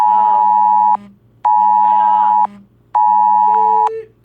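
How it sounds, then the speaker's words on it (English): Three loud electronic Amber Alert tones sound from a phone in a repeating pattern, each about a second long with short pauses between, close and harsh. "Amber alerts"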